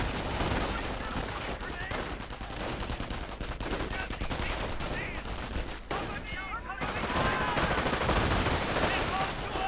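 Gunfire and bazooka blasts in a war strategy video game: continuous dense rifle and machine-gun fire with scattered heavier bangs, loud and busy throughout, with a commentator talking over the battle.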